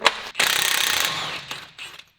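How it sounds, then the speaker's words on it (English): A ratchet works a rusty axle nut on a 6.7 Cummins wheel hub, a fast run of close, loud clicking that eases off, then two shorter ratcheting bursts before silence. "So what I'm gonna do now is I'm gonna take my axle nut off."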